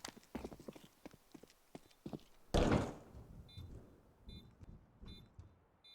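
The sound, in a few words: double doors opening in Counter-Strike video game, Nuke map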